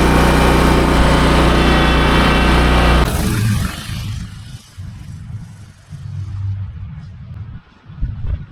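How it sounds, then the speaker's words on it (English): A lawn mower engine running steadily and loud for about three seconds, then dropping to a lower, rougher idle-like drone that surges and fades over the rest of the stretch. "You got to keep these lawnmowers running."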